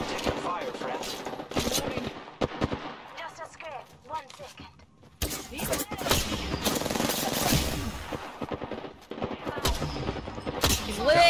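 Gunfire in the Apex Legends battle royale game, rapid automatic bursts and repeated shots arriving in clusters, with gaps and a brief lull between exchanges, while players talk over the fighting.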